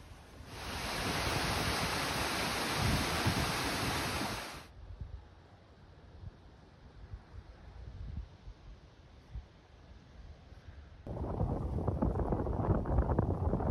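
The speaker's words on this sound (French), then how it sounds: "Il y a beaucoup de vent sur le plateau" Strong wind roars across an open plateau in loud, broadband gusts, dropping to a low rumble for several seconds before surging back hard against the microphone; no voices.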